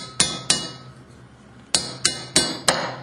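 Hammer striking a piece of pipe or chisel to drive a seal adapter bracket out of an Aqua Flo pump, six sharp metallic blows, two early and four in quick succession after a pause.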